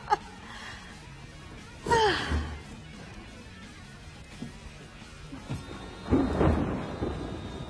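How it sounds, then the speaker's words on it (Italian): Thunder from an approaching thunderstorm rolls in twice as low, moderately distant rumbles, separated by a quiet stretch, with soft breathy vocal sounds alongside. "È in arrivo un temporale."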